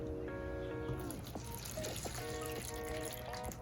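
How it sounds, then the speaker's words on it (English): Water poured from a watering can onto a newly planted plant in a garden container, a steady close trickle and splash running throughout. "And now it's time to water it."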